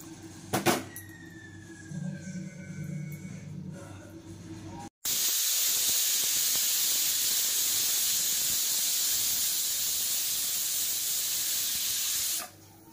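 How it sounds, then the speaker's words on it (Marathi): A pressure cooker of chickpeas on a gas stove first gives off faint kitchen clatter, then bursts into a loud, steady steam whistle that hisses continuously for about seven seconds before cutting off. "जर छोले शिजले नसतील तर वापस आपण कुकरला शिट्ट्या देऊया"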